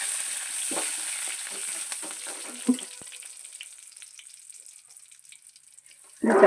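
Curry leaves crackle and sizzle in hot oil in a frying pan while jackfruit is being cooked, with busy spitting early on that fades, then a louder burst of frying at the end.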